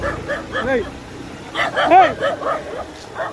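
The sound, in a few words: dog barking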